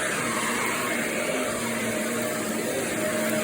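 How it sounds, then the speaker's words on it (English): A vacuum cleaner roars steadily and loudly at close range on carpet, a constant whooshing drone with no pauses and no voices. "I'm finishing vacuuming out the section"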